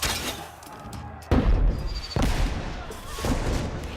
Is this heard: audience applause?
no